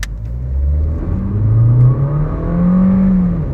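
Skoda Octavia G-TEC running on factory-fitted methane accelerates hard from 0 to 100 km/h, its engine note rising steadily through the gears with loud, continuous revving and brief dips at shifts, no talking over it.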